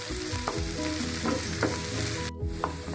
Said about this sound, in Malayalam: ഇപ്പോൾ ഇഞ്ചിയും പച്ചമുളക് ഉള്ളിയൊക്കെ നല്ലതുപോലെ ഒന്ന് വഴന്ന് വന്നിട്ടുണ്ട്.